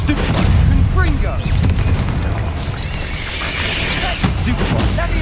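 Explosive blast spell in the video game Hogwarts Legacy, heavy booming impacts amid a busy, loud battle with layered combat effects, and a voice talking over them.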